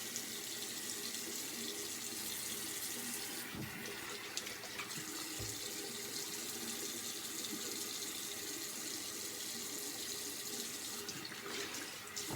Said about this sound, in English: And you're still gonna have to listen to water running.